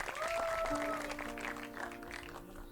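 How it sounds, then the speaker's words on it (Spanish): Studio audience applause for guests on a live late-night program, a loud sustained crowd clapping filling the whole moment with some voices mixed in. "Fuerte el aplauso para nuestros invitados."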